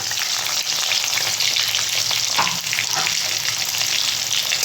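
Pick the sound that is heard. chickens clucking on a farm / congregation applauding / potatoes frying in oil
potatoes frying in oil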